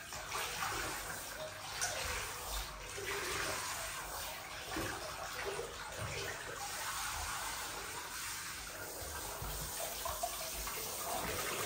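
Tap water runs steadily into a bath while a husky is being washed, a continuous close hiss and splash with small bumps and splashes mixed in.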